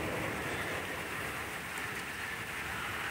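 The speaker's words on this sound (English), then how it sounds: "Yep, it is raining." Rain falls steadily at a dog park, a soft, even patter of drops heard at a distance with no voices, faint but continuous throughout.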